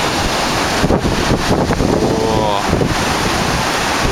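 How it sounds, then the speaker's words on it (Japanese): Rough sea waves surge and crash below Miramare Castle near Trieste, a dense, continuous roar heavily buffeted by wind across the microphone, with no voices. "荒波です。"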